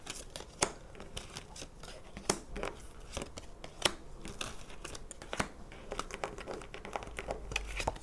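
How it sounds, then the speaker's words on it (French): Tarot cards drawn from a deck and laid out on a table, giving a string of soft, close taps, flicks and slides against a quiet room background. "On va tirer 9 cartes."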